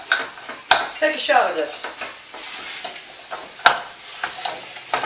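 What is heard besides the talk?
ground beef, onion, pepper and garlic cooking in a pan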